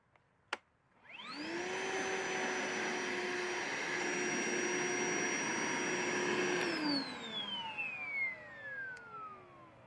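A Kobalt 24v chemical fogger at full power spins up after a click into a loud, steady motorized whine with a fan-like rush, holds there for several seconds, then winds down as the pitch falls away.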